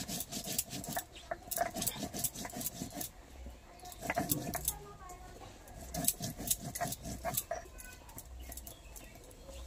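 Dried red chillies being ground into a paste, likely on a stone, making repeated rough rasping strokes in an uneven rhythm, with voices talking over them throughout.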